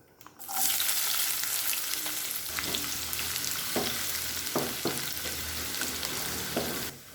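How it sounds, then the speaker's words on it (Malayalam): Finely chopped shallots hit hot oil with mustard seeds and burst into a loud, steady sizzle, with a few clinks of a spoon stirring the pan. "ഇനി നമ്മുടെ ചുവന്നുള്ളി നന്നായിട്ടൊന്ന് ഗോൾഡൻ കളറാകുന്ന വരെ വഴറ്റി കൊടുക്കാം"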